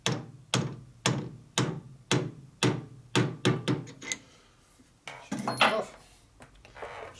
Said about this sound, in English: we just lightly tap this in with a plastic hammer